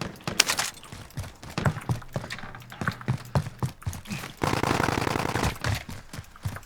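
Repeated sharp gunshots from Call of Duty: Warzone, some single and some in quick bursts, with a dense stretch of rapid automatic fire near the end. Loud, close, and without talking.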